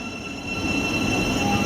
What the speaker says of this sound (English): Oh, the train coming in.